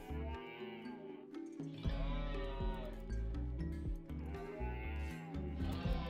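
A mad elk in the video game Rimworld gives a string of loud, drawn-out bleating, lowing calls in rhythmic bursts, layered over in-game music with no talk.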